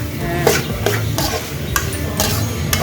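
Mutton chukka being stirred in a pan, with a series of close scraping and clattering strokes at an uneven rhythm, each stroke loud against a steady low kitchen background.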